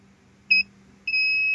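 A pump controller's alarm under test gives a short electronic beep, then a longer steady tone, loud and clear against a quiet low hum.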